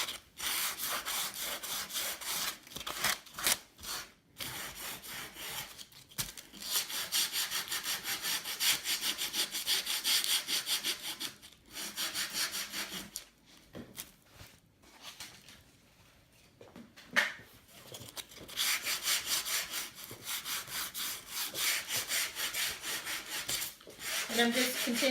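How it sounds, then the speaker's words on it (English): Heavy sandpaper is rubbed back and forth across a wooden Christmas sign, making continuous rough, gritty scraping strokes that are close and steady with a few brief pauses. "So I'm just going to run my heavier sandpaper across there again."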